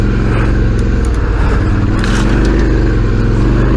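A dirt bike on Motoz Tractionator Dual Venture tyres revs hard while its rear wheel spins on a dry, loose trail, giving a loud, close, continuous engine roar with rough, pulsing bursts throughout.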